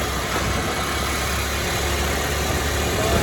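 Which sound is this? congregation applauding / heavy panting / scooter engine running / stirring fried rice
scooter engine running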